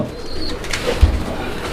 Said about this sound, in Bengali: ভরপুর কবুতর ভ্যারাইটিস আইটেমের কবুতরগুলো রয়েছে